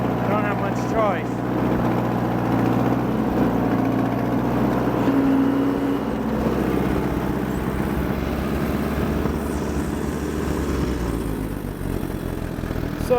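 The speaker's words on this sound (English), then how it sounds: "We did the ride along with the Allis D14 and the 2-bottom plow." An Allis Chalmers D14 tractor pulls a 2-bottom plow through wet garden soil, its engine a steady, loud, rumbling drone heard close up throughout.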